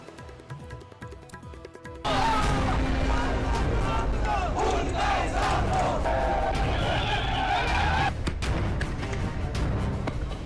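Large protest crowd in Pakistan-occupied Kashmir, loud sustained chanting and shouting that bursts in suddenly and roars on, dense and close.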